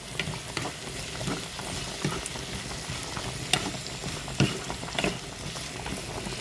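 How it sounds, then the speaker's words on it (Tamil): Carrot and beans are stirred with curry leaves in a frying pan for a milk curry, a steady close sizzle broken by repeated sharp knocks and scrapes of the spoon against the pan. "இதோட கருவேப்பமில்லை போட்டு எல்லாத்தையும் கலந்து விடுவோம்"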